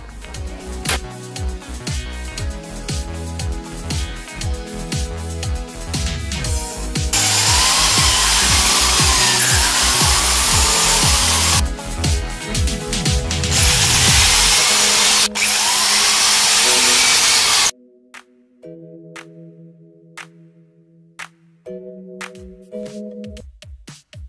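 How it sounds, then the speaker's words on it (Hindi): A power drill boring holes through pieces for homemade elbow pads, loud sustained whine and grinding for several seconds, then cutting off abruptly to a few quieter intermittent bursts and short tones. "तो अब इनमें होल करते हैं और बोल्ट फिट करते हैं इनकी तरह।"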